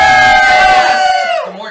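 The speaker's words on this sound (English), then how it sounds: "The more cheering, the more fun we have." A game show audience cheers and whoops loudly in one sustained burst that fades out near the end.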